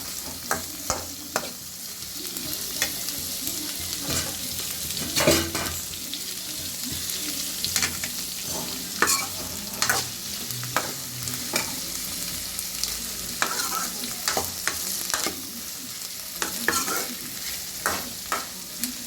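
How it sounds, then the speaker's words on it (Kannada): Onions frying in a pan for onion bajji, stirred with repeated scraping strokes over a steady close sizzle, with no talking. "ಈರುಳ್ಳಿ ಚೆನ್ನಾಗಿ ಫ್ರೈ ಮಾಡ್ಕೋಬೇಕು"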